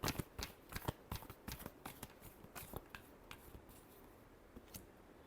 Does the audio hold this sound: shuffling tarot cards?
yes